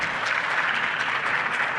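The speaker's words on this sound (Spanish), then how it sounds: "Y me conmueve que me aplaudan" Sustained, dense applause fills a legislative chamber during an energy reform debate, steady and even throughout, with no talk.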